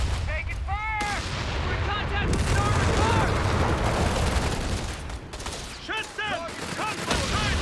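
Gunfire and explosions from the real-time strategy game Company of Heroes 3 in a 2v2 match, where machine guns fire on paratroopers. Dense, loud bursts of shots and booms repeat throughout, with brief whistling effects layered over a constant battle din.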